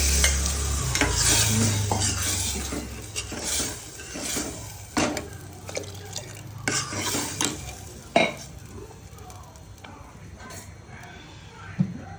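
Spice masala roasting in oil for sev usal while a spoon stirs it, close-up scraping and clinking strokes over a crackling sizzle, irregular and fairly loud.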